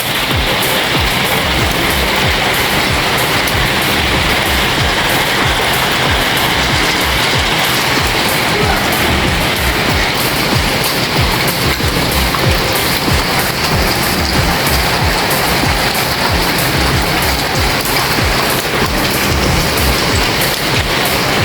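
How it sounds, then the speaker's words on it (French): Hailstones around 2 to 3 cm across pelt down hard during an evening thunderstorm, a loud, dense, continuous clatter drumming on surfaces nearby without pause. "Regardez la grêle."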